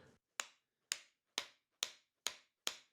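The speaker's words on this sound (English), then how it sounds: "I'll take a hammer and hammer from this side." Six sharp, evenly spaced hammer strikes driving a forged spiked tomahawk head onto its wooden handle, crisp and close, each ringing briefly before the next blow.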